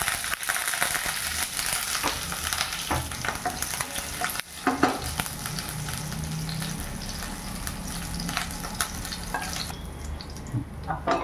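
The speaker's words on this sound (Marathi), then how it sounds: "या पॉईंटला मी मिरच्या घालणार आहे." Green chillies drop into urad dal frying in hot oil, and a loud, steady sizzle runs throughout with stirring scrapes and clatter of a spoon in the pan, with no talking.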